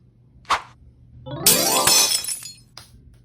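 Drinking glasses smash indoors: a short clink, then a loud shattering crash with shards scattering for about a second, and a final small tinkle as pieces settle.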